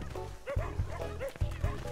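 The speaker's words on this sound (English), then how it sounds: "look at those cats and dogs fight" Dogs in a cartoon bark and yip in rapid, overlapping bursts as they scuffle, with whimpering mixed in. The sound is close and busy, and speech runs over part of it.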